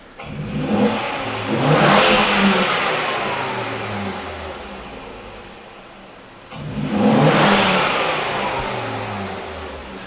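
A Volvo C70 engine being checked for hesitation, low power and misfire revs up twice, each rev rising to a loud roar and slowly dropping back toward idle, heard up close.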